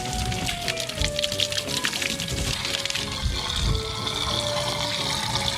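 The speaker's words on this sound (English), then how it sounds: "I'm gonna get a hose, rinse all this off." Steady rushing spray of water from a garden hose rinsing off RV water-system parts, loud and continuous with splashing and a faint tonal whine running under it.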